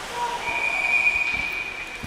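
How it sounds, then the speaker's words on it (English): A referee's whistle sounds during a youth ice hockey game, a sustained shrill tone over rink ambience and faint crowd noise. "We have a whistle."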